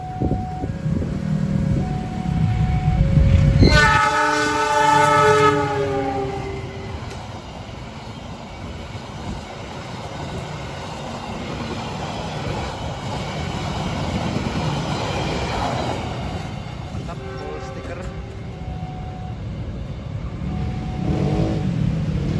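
The Papandayan passenger train from Gambir to Garut passes loudly nearby, its horn blaring at the start, then a long rumbling roar of wheels on rails with a brief squeal and a second horn later.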